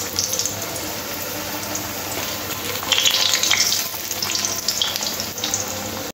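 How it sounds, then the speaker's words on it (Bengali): Long-cut potato strips fry in plenty of oil in a wok, producing a loud, continuous bubbling sizzle that swells slightly midway, with no voices. "কড়ার মধ্যে বেশ খানিকটা তেল নিয়ে নিয়েছি। এই তেলের মধ্যে আলুগুলো ভেজে নেব।"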